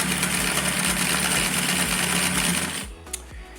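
An electric sewing machine runs steadily, stitching a seam through costume fabric in a fast mechanical whir with a soft rhythmic thump, then stops abruptly near the end.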